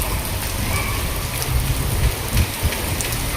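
Light rain falling outdoors in Rajkot, a steady dense patter with wind noise and a few soft low thumps, and no talking.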